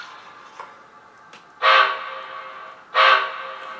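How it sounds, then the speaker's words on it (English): Two loud, drawn-out steam whistle blasts from a model locomotive's Tsunami steam sound decoder, each lasting about half a second, separated by a short pause over a faint background hum. "I like the way that whistle sounds"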